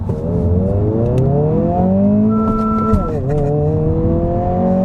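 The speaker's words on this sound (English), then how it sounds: "Sport mode gives you faster throttle response, heavier steering, and a little more engine sound from the speakers." A 2025 Honda Civic Si accelerates hard in sport mode, the engine note climbing steadily through the revs, briefly dipping at a gear change, then pulling again, heard from inside the cabin.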